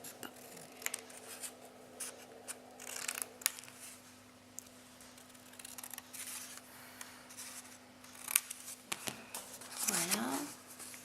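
Scissors cut the corners of paper for a mini album, with a series of faint, close snips and paper rustles over a low steady hum.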